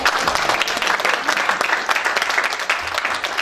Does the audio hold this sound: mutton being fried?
no